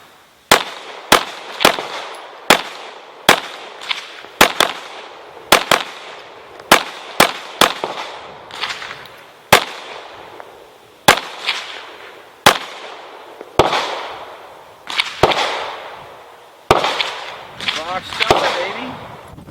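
Glock 17 Gen 4 pistol firing carry ammunition, a rapid series of about two dozen sharp, loud gunshots in uneven bursts, each with a short outdoor echo.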